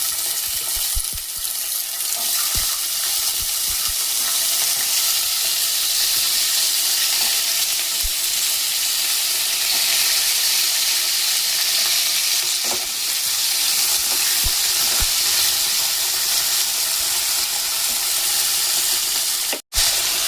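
Potatoes frying in hot oil with bay leaf and dried chilli, a steady close sizzle filling the whole stretch, with faint stirring scrapes and a sharp clatter near the end.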